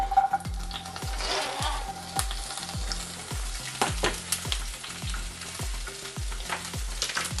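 Pieces of bell pepper sizzle steadily in a hot pan with a spoonful of oil for Polish goulash soup, with a stirring scrape and soft rhythmic thumps over the frying.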